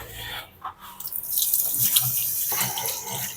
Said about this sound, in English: Yeah, a little bit of water.